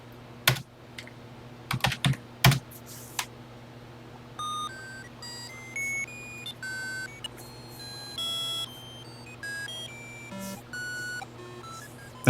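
Calculator keys clack in quick bursts, then a Texas Instruments calculator plays R2D2-style beeps: a rapid sequence of short electronic tones jumping between pitches, each brief and distinct, at moderate volume over a faint hum.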